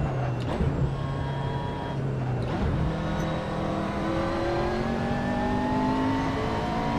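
Race car engine in Assetto Corsa revving up through the gears while passing another car of the same model, steady loud engine drone with rising pitch sweeps and another car's engine audible nearby.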